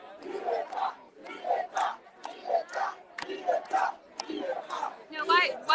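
A protest crowd gathered outside the White House chants in loud rhythmic bursts, many voices shouting in unison with short pauses between cries, close and forceful.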